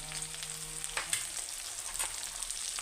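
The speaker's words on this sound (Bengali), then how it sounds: "এটাকে আমি হিট দিয়ে অল্প ভেজে নেব ধনিয়া গুঁড়ো" Spices with coriander powder and salt sizzle in hot oil for a rui fish curry, a soft steady frying hiss with a few brief stirring scrapes. No voice is heard.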